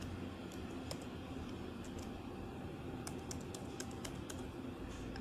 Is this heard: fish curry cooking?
no